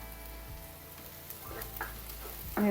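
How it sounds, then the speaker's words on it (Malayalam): Sliced onions sautéing in a pan with ginger garlic paste, cooking down for a drumstick and capsicum curry. A steady soft sizzle runs throughout with faint clinks, close up and without voices. "ഈ സവാള ഒന്ന് വഴന്ന് വരണേ."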